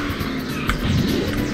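A kart drifting with a booster in KartRider, a loud, continuous engine whine with a scraping tire screech rising near the middle.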